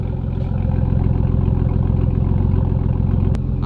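A straight-piped Nissan R34 Skyline idles close up, its loud, throaty exhaust putting out a steady, lumpy low rumble with a fast regular pulse; a brief click near the end, no talking.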